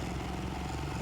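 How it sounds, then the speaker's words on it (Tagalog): Motorcycle engine droning steadily and close during a long ride in traffic, a continuous low rumble with no voices. "parang maingay siguro yung motor ko"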